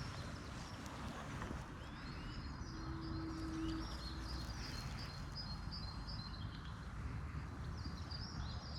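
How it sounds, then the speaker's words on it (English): Birds sing and chirp in a series of high twittering phrases, moderately distant, over a constant low background hum in Glastonbury, with no one speaking. "The bird song is so beautiful."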